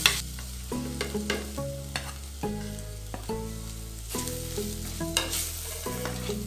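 Onions with three spice powders frying in a little oil for a village-style Kerala fish curry, stirred steadily, with a continuous sizzle and the clink of a spoon against the pan. Background music plays over it and nobody speaks.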